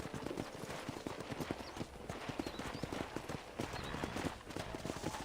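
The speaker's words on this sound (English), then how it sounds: "let's see if you can still ride a horse." Rapid, steady clip-clop of horse hooves at a trot in the video game Red Dead Redemption, moderately close, with a faint whinny and a soft ambient bed behind it.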